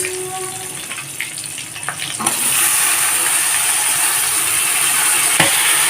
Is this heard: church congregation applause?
no